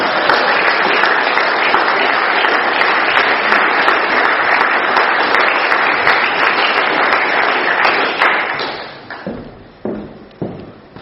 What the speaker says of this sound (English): Let's give Alan another round of applause